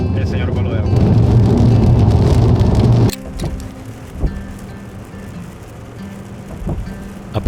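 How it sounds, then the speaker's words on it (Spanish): Heavy rain roars steadily over a moving car for about three seconds, then drops abruptly to a quieter patter of drops and road rumble with occasional soft knocks. "A pesar de la lluvia que nos dio todo el camino"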